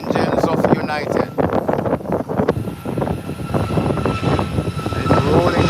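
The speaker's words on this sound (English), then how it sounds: "Here comes the whistling engines of United." A United airliner's jet engines whistle and roar as it begins its takeoff roll, a steady broadband rush with a faint high tone, heard under ongoing talk.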